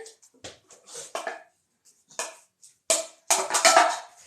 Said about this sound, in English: we are constantly mixing